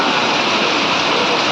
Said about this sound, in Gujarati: ગારિયાધારમાં ધોધમાર વરસાદ ચાલુ થઈ ગયો છે.